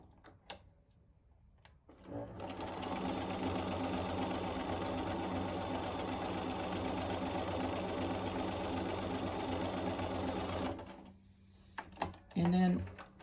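A sewing machine stitching fabric runs steadily for about nine seconds, a fast, even mechanical whir, then stops, followed by a few handling clicks.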